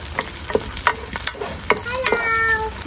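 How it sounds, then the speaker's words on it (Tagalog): Garlic and onion sautéing in a pan outdoors: a steady, close sizzle with scraping stirs and spoon knocks, plus a cat meowing a few times near the end. "sinusutay na natin ang bawang sibuyas"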